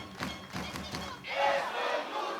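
Wrestling crowd at an MLW Lucha Apocalypto show cheering and shouting, a loud wash of voices that swells and surges midway and stays sustained to the end.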